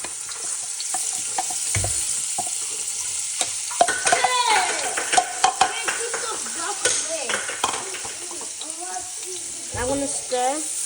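Spaghetti stir-fries in sesame oil, chow mein style. A loud, continuous sizzle sounds close throughout, with repeated scraping and squeaking strokes of a utensil against the pan.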